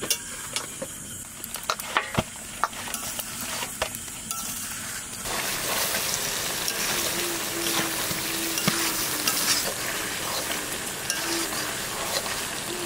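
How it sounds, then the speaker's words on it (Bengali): Chicken cooking with yogurt over a low flame, stirred in a pan: sharp scraping clicks of a utensil at first, then a denser, steady sizzle with intermittent stirring knocks. "মাংস কষানো হয়ে গেছে"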